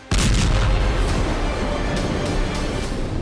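A loud explosion from a drone strike in Sumy bursts in abruptly and keeps roaring as a dense, sustained rumble with repeated booming hits throughout, close and powerful.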